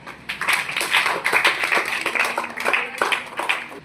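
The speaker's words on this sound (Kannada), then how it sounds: "ಚಪ್ಪಾಳೆ" Children clapping at a school quiz, a brisk close burst of many hands clapping together that keeps a steady pace with small swells and no speech.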